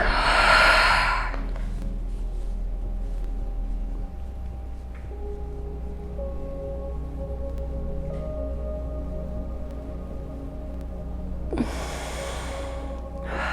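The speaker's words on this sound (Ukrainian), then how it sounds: "Вдих, видих." Deep, forceful breaths during an agnisara kriya yoga breathing exercise. A loud rushing exhale comes at the start and another near the end, with quiet, faint background hum between them.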